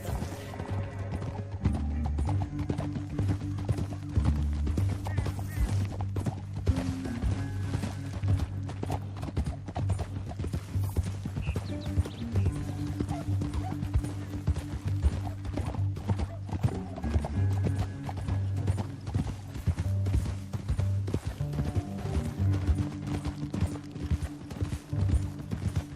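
A horse gallops in Red Dead Redemption 2 with a steady, rapid clip-clop of hooves throughout, heard alongside a game music score, with a short neigh near the start.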